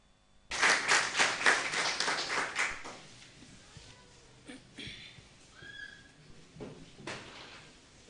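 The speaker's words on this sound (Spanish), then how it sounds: "Vamos a recibir, por favor, con fuertes aplausos." A congregation at a prayer service bursts into loud, brisk applause that lasts a few seconds and then fades into scattered claps and room noise.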